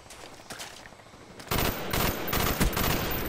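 Gunfire in Call of Duty: Black Ops, starting with scattered shots and then breaking into a loud, dense automatic burst of rapid rounds that runs for the last two seconds.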